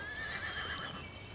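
A horse neighs in a short, fairly loud whinny with some hoof movement beneath, heard alone.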